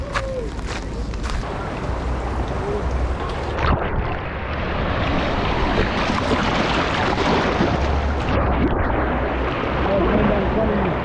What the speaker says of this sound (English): I have a little clip right here that we can watch about me floating in the river